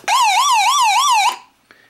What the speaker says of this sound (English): You've got a siren, cover your ears.